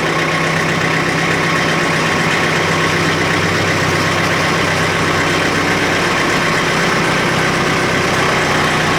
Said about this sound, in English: we're going to attempt to back this fella in here. Put her in the low gear.